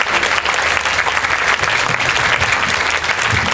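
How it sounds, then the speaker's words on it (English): Crowd at an outdoor Singapore protest rally applauding steadily for the first speaker, a dense, even wash of clapping filling the whole stretch with no voices over it. "Let's give Ms. Fatima a big hand of applause as our first speaker."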